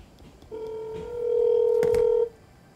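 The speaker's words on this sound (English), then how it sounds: "And then let me add Anthony." Telephone tones sound while a caller is being added to a call: a steady electronic tone swells louder and holds, with a quick burst of keypad beeps near its end, close and clear, no talking.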